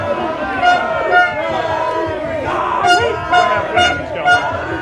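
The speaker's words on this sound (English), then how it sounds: "They literally have the air horn in my face" Repeated air horn blasts at a mayor's event, several loud toots in an irregular rhythm, over a noisy crowd with people talking and shouting nearby.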